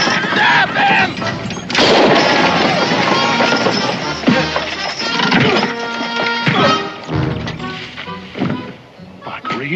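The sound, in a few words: gunshot in a 1969 Western TV episode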